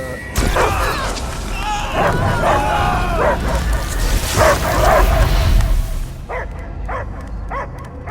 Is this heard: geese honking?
no